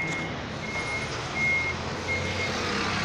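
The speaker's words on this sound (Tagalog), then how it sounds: "Ayan po ang ating truck." A truck reversing with its backup alarm sounding steady, evenly spaced beeps over a constant low engine rumble, close and fairly loud throughout.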